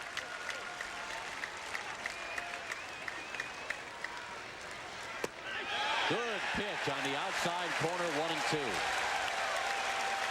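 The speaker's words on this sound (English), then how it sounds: "Crowd is now roaring on every called strike" Baseball crowd at Fenway Park roaring on called strikes while Pedro Martinez pitches against the Rangers in 1998, a broad swelling cheer that builds midway under a play-by-play announcer's voice.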